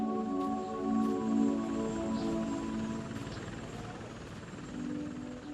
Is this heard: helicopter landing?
yes